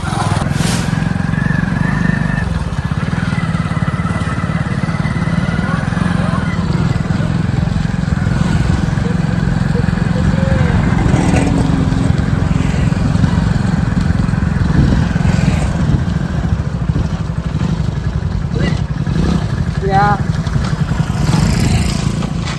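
A motorcycle engine runs steadily and close by, a continuous loud mid-pitched drone with little variation throughout, with no talk over it.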